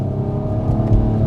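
A 2016 Nissan Maxima SR engine revs under paddle-shifted manual mode, a loud, close, steady drone with a tone climbing through the gear.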